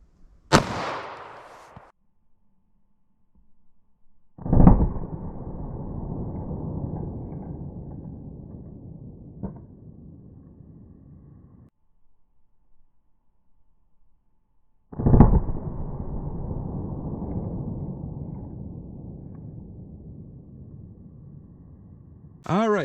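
Two loud 9mm handgun shots ring out, one from a 5-inch barrel and one from a 3.2-inch barrel, about ten seconds apart, each a sharp crack followed by a long fading echo at an outdoor range.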